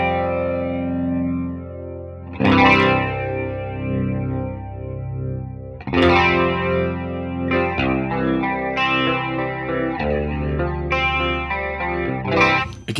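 An electric guitar plays through a slow rotary speaker effect on a ToneX amp modeler, with several strummed chords and picked notes ringing out with a swirling, chorus-like wobble and slight grit, heard alone and close.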